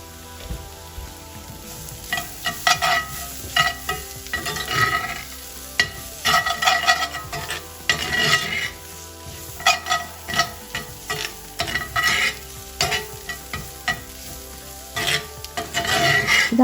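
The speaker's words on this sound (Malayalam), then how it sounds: "ഒന്ന് വഴറ്റി കൊടുക്കാം." Tomato puree mixture being sautéed in a pan for a bread-and-egg snack, with steady frying sizzle and repeated scraping stirs of a utensil against the pan throughout, close and fairly loud.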